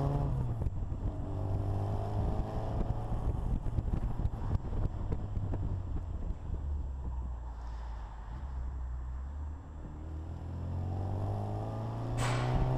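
A custom Austin-Healey Bug Eye Sprite with a 1380 engine is driven on the road, heard from inside the car. Its engine drones steadily under heavy wind rush, the pitch rising and falling with gear changes and climbing in a rev near the end, with no talking.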